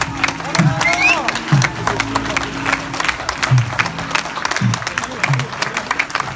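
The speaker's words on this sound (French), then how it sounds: "et vous pouvez les applaudir" An audience at a campsite hypnosis show gives scattered, moderate applause. Voices talk and call over the clapping throughout.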